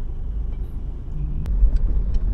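Road traffic with cars in congestion beneath an underpass near Pasong Tamo, heard as a low, steady rumble of engines and tyres from inside a vehicle, swelling slightly toward the end.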